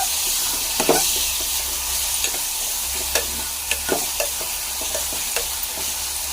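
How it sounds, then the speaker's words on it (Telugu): Bottle gourd pieces stirred in a pan, with a steady low sizzle and scattered scraping spoon strokes at an irregular rhythm, heard close with no talk. "మనం కోసి పెట్టుకున్న సొరకాయ ముక్కలు వేసుకొని కలుపుకోవాలి."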